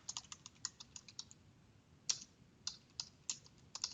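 Brisk bursts of typing on a computer keyboard, quick irregular clusters of crisp key clicks with short pauses between words, close and fairly quiet with no talking.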